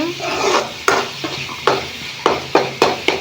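Sliced onions fry in oil for a Meal Maker curry, sizzling steadily in the pan as a spoon scrapes and stirs in sharp, repeated strokes, close and clear.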